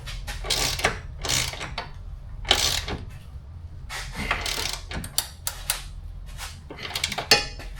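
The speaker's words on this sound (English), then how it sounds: "Now we're going to torque it to specs" A torque wrench tightens a control arm bolt on a Subaru Impreza Outback, giving repeated sharp metallic ratchet clicks in irregular bursts with short gaps between them, close and clear.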